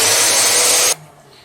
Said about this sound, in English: Let's pop the sander on and get this one sorted.